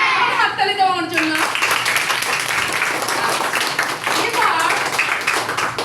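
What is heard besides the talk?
children clapping hands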